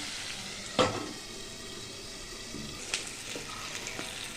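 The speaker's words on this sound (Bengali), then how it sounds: "আর একটু কষতে থাকবে।" Potatoes and spices sautéing in hot oil for a paneer dish, a continuous soft sizzle broken by a few sharp stirring scrapes and clinks.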